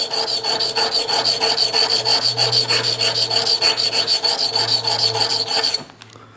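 A knife blade is drawn over the finer side of a sharpening stone, a steady series of rhythmic, raspy scraping strokes, close and fairly loud, stopping abruptly near the end.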